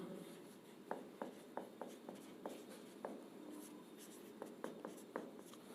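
Handwriting during a general-knowledge lesson: quick, scratchy pen strokes in short irregular bursts, close but fairly soft, with no talking over them.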